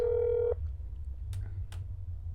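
Telephone in the game That's Not My Neighbor: a single half-second electronic ring tone, loud and clear, then only faint clicks against a low background hum.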